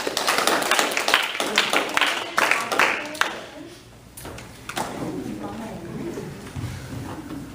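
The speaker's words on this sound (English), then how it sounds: "Let's give her a round of applause." A small group at a physical therapy session gives a participant a round of applause, a brief burst of close hand claps that fades out, followed by people talking.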